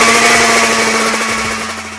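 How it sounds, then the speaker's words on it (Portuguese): A loud, continuous, high-pitched two-stroke motorcycle engine whine with a rapid buzzing rattle, steady and close, with no voices. "o som inconfundível de um motor 2 tempos"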